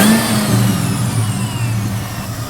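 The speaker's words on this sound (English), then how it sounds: "Let me just give it some revs here." A Cobra car engine with a voltage/alternator fault revs up and holds at a raised, steady drone, close and loud, gradually settling slightly lower, with no talking.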